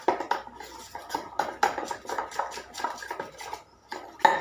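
A mixture with salt being whisked briskly in a bowl for mini pizza, with fast, steady metallic tapping and scraping strokes in a continuous rhythm, close and clear, no voices.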